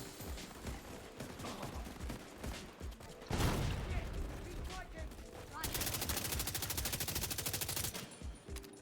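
Gunfire in a first-person shooter game: scattered single shots and short bursts, then a sharp blast and a long sustained rattle of rapid automatic fire, loud and close over the game's background noise.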